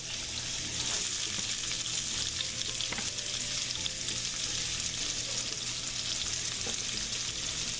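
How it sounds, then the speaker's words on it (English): Peppers sizzle and fry in hot oil left over from cooking sausage for a sausage paella, giving a steady, dense crackle throughout with occasional stirring clinks and no talking. "we're going to go ahead and throw the peppers in"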